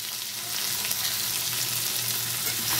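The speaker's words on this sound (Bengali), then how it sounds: "এখন আমি এই মশলাটাকে একটু ভেজে নেব" A spice mix of chili, cumin and turmeric powder frying in oil makes a dense, continuous, close sizzle that grows louder after the first half second and holds steady, with faint stirring.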